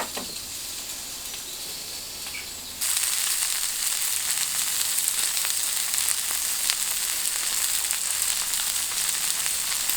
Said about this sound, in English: Just pop them skin side down on this hot cast iron pan. There we go. And those will sear up nice.